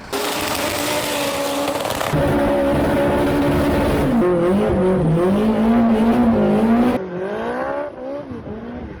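A loud turbocharged Ford Escort engine revs hard against the limiter, its pitch climbing and dropping through gear changes, with tire squeal mixed in, close and continuous before easing off.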